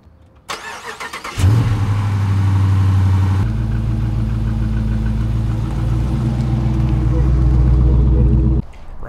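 A rental car's engine starts and settles into a steady, loud idle close by, a low droning rumble that continues for several seconds before cutting off near the end.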